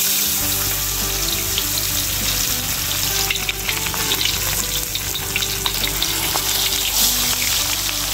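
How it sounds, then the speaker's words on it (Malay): Black pomfret fish fry in hot oil, giving a loud continuous sizzle and crackle close by, with a steady low hum underneath. "gorenglah ikan macam biasa"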